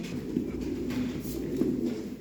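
Çakmalı breeding pigeons coo in their loft, soft low throaty calls repeating close by, with faint background noise around them.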